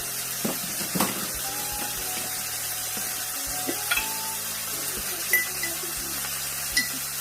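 Boiled potatoes frying in a pan for a chicken pepper steak, a steady close sizzle with occasional clinks and scrapes of a spoon stirring against the pan.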